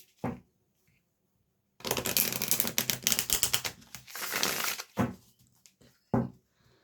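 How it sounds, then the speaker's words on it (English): Mystic Forest Oracle cards being reshuffled by hand, a dense crackling riffle of card edges lasting a few seconds, close and fairly quiet, followed by a couple of short taps and flicks with no talking. "I do pre-shuffle the cards if you've watched me before, but sometimes I get called to just give them another reshuffle."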